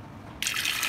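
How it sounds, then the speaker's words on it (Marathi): Water poured into a pressure cooker holding double beans, a short splashing gush that starts abruptly and runs for half a second. "थोडं पाणी टाकायचं."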